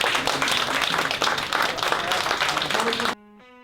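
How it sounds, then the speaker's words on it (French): An audience applauds at a French hairdressing competition's mock exam, with steady, dense clapping that cuts off abruptly near the end and leaves near silence with faint tones. "je vous félicite tous et je vous applaudis"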